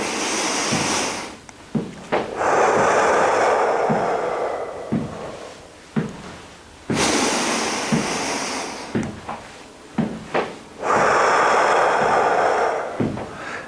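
Deep breathing during marching in place: long, loud, close breaths alternate, each drawn-in and blown-out rush lasting a few seconds, with soft thumps of footsteps in between.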